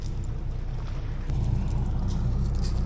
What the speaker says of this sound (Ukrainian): На наш човен. Пливемо далі.